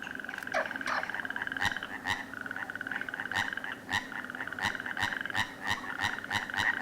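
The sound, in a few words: common frog and midwife toad calling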